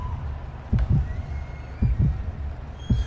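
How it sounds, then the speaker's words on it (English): A heartbeat effect opens a Eurovision 2011 song from Ukraine, deep paired lub-dub thumps repeating about once a second over a low hum, prominent and steady with no voices. "They really let this heartbeat go on for a minute"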